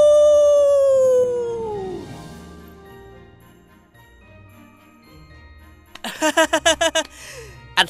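A voice imitates a wolf howl, a long sliding tonal wail that falls and fades over about two seconds, followed later by a burst of rhythmic jingling tones.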